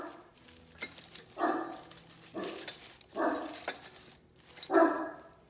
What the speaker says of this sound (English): Sam's barking at something.